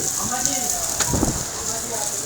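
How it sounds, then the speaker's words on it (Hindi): Heavy rain falls at a street protest at D Chowk, Islamabad, as a steady, close hiss throughout, with voices and scattered thuds mixed in. "सख्त बारिश है यहाँ पर, ये आप देख सकते हैं।"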